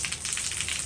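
Steady outdoor rain hisses continuously, a dense patter of drops with faint tapping accents, fairly close and even throughout, with no voices.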